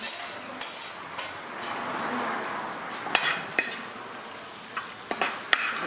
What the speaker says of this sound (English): I'm going to be sauteing my scallion